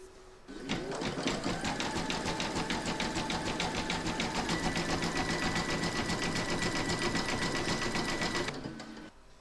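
An embroidery sewing machine stitches a Santa applique in flesh pink thread, a steady, fast mechanical chatter with an even rapid rhythm that starts abruptly, holds for about eight seconds close up, then stops.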